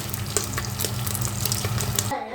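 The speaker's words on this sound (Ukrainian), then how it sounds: "Яйця з молоком вже перемішала і смажу ковбаску." Steady close sizzling and crackling of sausage frying in a multicooker pan, with a few stirring scrapes, ending abruptly.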